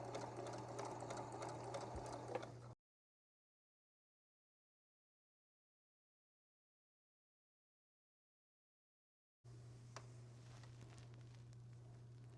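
A sewing machine runs a quarter-inch seam on a quilt, a steady close whirring hum with needle chatter, broken by a long silent gap before stitching resumes.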